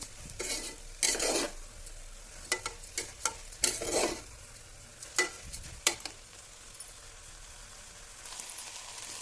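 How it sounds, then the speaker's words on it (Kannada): Rice for fenugreek (menthya) bath being stir-fried in a pan, with a spoon scraping and stirring in repeated short bursts over a soft, steady sizzle, close up and with no talking. "ಸ್ವಲ್ಪ ಈ ಥರ ಫ್ರೈ ಮಾಡೋದ್ರಿಂದ ಉದುದ್ರಾಗಿ ಆಗುತ್ತಾರೆ ರೈಸ್"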